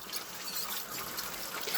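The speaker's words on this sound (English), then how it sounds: "Let's keep the sparge water coming then." Sparge water trickles steadily into a mash tun during a wheat beer brew, a soft continuous hiss and splash with no voices.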